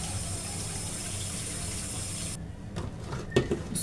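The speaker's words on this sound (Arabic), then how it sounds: "عشان بنقع البرطمان عشان اغسله" Tap water runs steadily into a kitchen sink as a jar is rinsed, a continuous broadband rush that thins out after a few seconds into scattered splashes and clinks of the jar.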